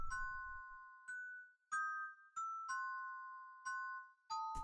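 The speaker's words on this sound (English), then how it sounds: "The higher bells here, which is just these pitched up" High-pitched, pitched-up bell tones in a hip-hop beat made in FL Studio ring out in a steady rhythmic pattern, each strike bright and sustained, repeating about every half second to a second.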